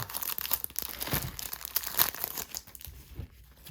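Vintage 1980s and 1990s baseball card wax packs being cut open, crinkling and tearing wax paper close up in loud, irregular rustling bursts with sharp crackles, alone without talk.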